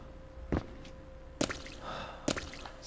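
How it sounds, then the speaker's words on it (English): In the Echo Night: Beyond video game, water splashes in three short, distinct wet bursts spaced about a second apart over a quiet background with a faint steady tone. "Stop splashing!"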